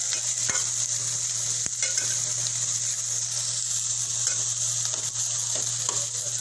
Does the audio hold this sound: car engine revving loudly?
no